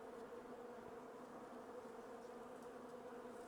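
Bees in the video game Island Beekeeper drone in a continuous, even buzzing hum, steady and fairly quiet throughout with no talk.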